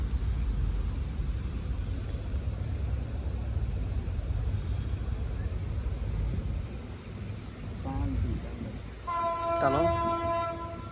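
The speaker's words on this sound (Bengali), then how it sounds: "এই পাশ থেকে আবার একটা ট্রেন আসছে" A train runs past a small flooded field where people are fishing, its steady rumbling rolling noise loud throughout, and near the end a sharp horn blasts a few times close by.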